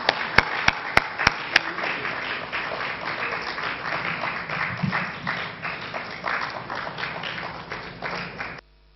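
Audience at the 10th African Coffee Symposium applauding steadily, with a few sharp loud claps or knocks near the start, then a continuous fairly close wash of clapping that stops suddenly.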